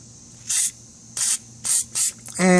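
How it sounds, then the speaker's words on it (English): WD-40 spray cans give four short, loud hissing bursts at close range while bearings are being removed, with brief silent gaps between them and a different louder sound starting at the end. "I'm spraying a little bit"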